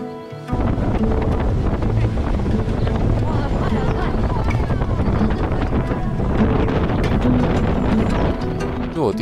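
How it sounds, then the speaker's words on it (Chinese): Speedboat ride on Ha Long Bay, Vietnam: a loud, steady roar of engine, wind and rushing water starts after a brief quiet moment and fills the rest of the clip. "是我第一次坐快艇"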